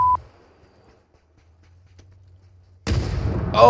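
A grenade goes off in the PUBG video game: after near silence and a low hum, a sudden loud booming blast erupts and rumbles on to the end.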